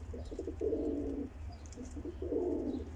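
A turtle dove coos softly in two low, throaty phrases, near and fairly faint, with a steady low hum underneath.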